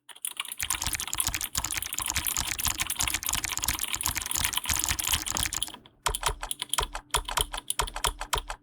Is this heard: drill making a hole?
no